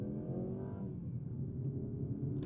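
A 2025 Mazda CX-30 base model with a 2.5-liter naturally aspirated engine accelerates in first gear, a steady droning engine note heard from inside the cabin, rising briefly before settling into a flat, moderately quiet hum.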